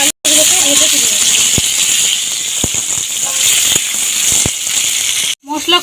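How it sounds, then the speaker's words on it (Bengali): Cut potatoes frying in hot oil seasoned with turmeric and salt, giving a steady loud sizzle and hiss with a few sharp pops and ticks throughout. "আলুগুলোকে একটু ভেজে নিই।"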